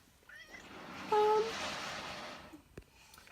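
A house cat gives a single short, clear meow indoors, fairly close and moderately loud, amid faint room noise with a toddler nearby.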